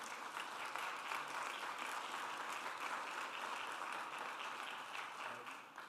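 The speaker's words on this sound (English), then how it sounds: "let's all give him a round of applause." At an Austin airport press announcement, a crowd gives sustained applause, an even, continuous patter of many hands heard somewhat distant and soft, holding steady for several seconds before easing slightly at the end.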